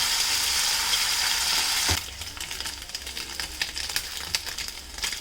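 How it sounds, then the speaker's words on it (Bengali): Kuche fish (eel) fries in oil in a pan, a loud continuous sizzle for the first two seconds that then drops to a softer crackle with scattered sharp pops and stirring clicks. "প্রথমে কুচে মাছটাকে ভেজে নিতে হবে"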